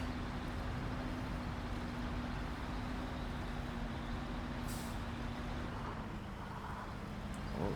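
Truck engine in the Snowrunner video game, a low steady labouring drone as it strains and shifts gears, with a short hiss partway through.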